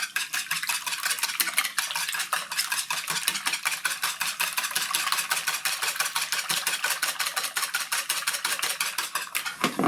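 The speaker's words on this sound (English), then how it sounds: "give them a quick whisk" A whisk beats ingredients in a bowl for a Gruyere broccoli and bacon gratin, making rapid, steady metallic clicks and scrapes that keep going for about ten seconds, close and alone with no talk.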